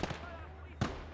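Rifle grenades fire in a World War II battle in the game Gates of Hell: Ostfront, two sharp blasts about a second apart over a low rumbling background, with a voice faintly present.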